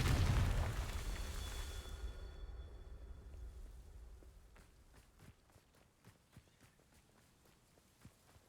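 A Confringo fire spell bursts in Hogwarts Legacy, a loud low explosion that rolls off into a fading rumble, followed by soft running footsteps.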